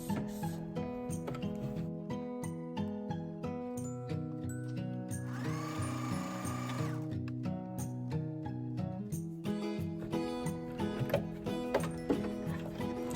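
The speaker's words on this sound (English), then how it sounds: "I kind of lift up the presser foot and backtrack up when I start sewing on that one part" A sewing machine chain-stitches fabric face masks one after another, a steady close mechanical whir with rapid rhythmic needle clatter and a brief higher whine in the middle.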